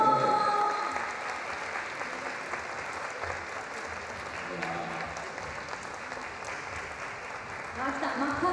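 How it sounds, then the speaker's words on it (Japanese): Steady applause from an audience welcoming students onstage fills the whole stretch without letting up, swelling slightly at the start and again near the end. "皆さんどうぞ大きな拍手でお迎えください。"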